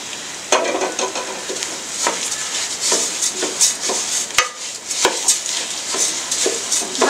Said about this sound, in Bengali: এবার আমি সাথে যে তেলটা ছেঁকে নিয়েছিলাম ওই তেলটার সাথে দিয়ে দিচ্ছি